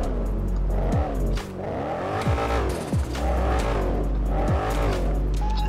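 A loud racing car engine in the video game GTA V with the LSPDFR mod revs up and down repeatedly through gear shifts, with tire squeals, sounding close and continuous.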